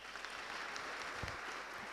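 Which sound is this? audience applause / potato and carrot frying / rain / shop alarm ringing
audience applause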